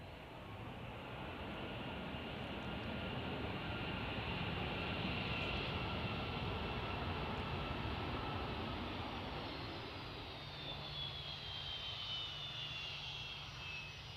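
Boeing 757 airliners passing at Edinburgh airport, a distant, steady broadband jet roar that swells and slowly fades over many seconds, with a faint whining tone sliding downward partway through.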